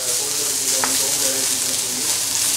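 Noodles and sauces sizzle steadily in a hot wok during a Szechuan noodle stir-fry, a continuous hiss with faint scraping, moderately loud and close.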